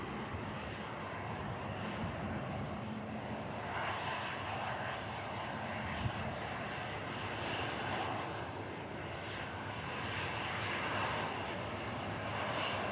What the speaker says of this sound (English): Off to Dublin, the ATR 72 with Aer Lingus.